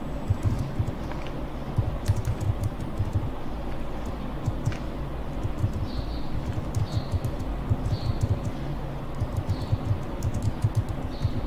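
Fingers type on a computer keyboard while writing in Microsoft Word, a steady stream of soft, quick key clicks over a constant low background hum, with no voices.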